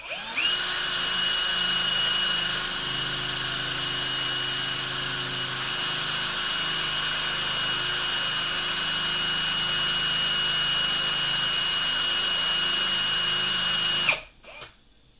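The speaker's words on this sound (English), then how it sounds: "The idea here is to drill a small pilot hole to keep things aligned." A CNC drill boring a small pilot hole into a granite block, a loud steady whine holding for about fourteen seconds before cutting off abruptly, with no one talking.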